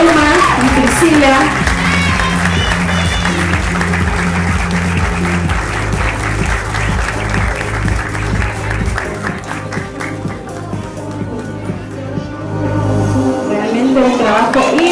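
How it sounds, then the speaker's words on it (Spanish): An audience at a cultural ambassadors' election in Villa Ángela claps for Uma and Priscila, steady applause mixed with loud music, voices and a sustained low drone throughout. "Fuerte los aplausos para Uma y Priscila."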